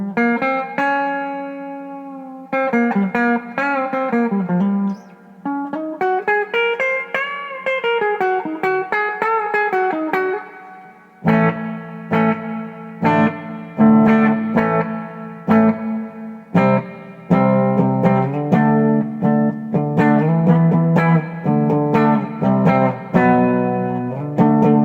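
Clean electric guitar played through a 1982 Peavey Bandit amplifier with a little reverb: bright, transparent single notes and chords ringing out close and loud, with short pauses between phrases and no talking.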